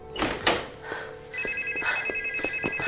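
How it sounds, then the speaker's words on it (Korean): Telephone ringing with an incoming call, an electronic ringtone chirping in a steady repeating pattern after a couple of muffled knocks, fairly close in a quiet room. "또다시 전화가 걸려오고."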